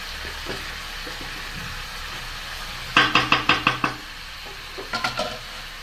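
A spoon knocks and scrapes as garam masala is stirred into pulao in a pot, with a quick run of six or seven sharp knocks and then a few softer taps, over a quiet background.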